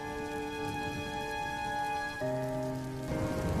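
Heavy rain falls on a dark night in an animated Hindi story, a soft, steady patter under sustained musical tones that shift partway through.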